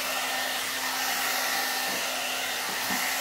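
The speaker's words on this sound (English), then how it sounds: "I love that you can style it different ways with this blow dryer or blowout dryer brush thing" A SUTRA blowout dryer brush runs continuously close by, a steady loud whooshing airflow with a constant motor whine and slight wobbles, no voices over it.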